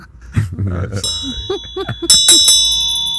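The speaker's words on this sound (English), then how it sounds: "And this bell does not mean the same thing to me as it means to you." A bell is struck and rings with a bright, sustained metallic tone, sounding twice near the middle of the clip and decaying slowly, following some speech-like vocal sounds at the start.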